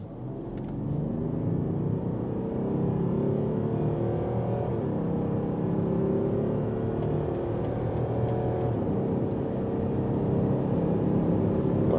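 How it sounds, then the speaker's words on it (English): A BMW X5 with a 3-liter six-cylinder engine accelerating hard in sport mode, a steady loud engine rumble and rising whir building continuously with no talk. "That was very good acceleration here for the 3-liter 6-cylinder"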